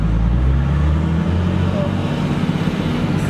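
A car with freshly rebuilt suspension rolls off, engine humming low and close while a voice talks briefly over the steady drive noise.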